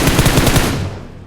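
Automatic gunfire in the mobile battle royale game PUBG Mobile rattles out as a loud, close burst of rapid shots that stops abruptly and fades over about a second.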